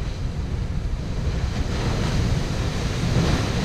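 Ocean waves surge up against Okama Cliff on the Funakoshi Peninsula in Yamada, a loud, continuous close roar of surf and wind.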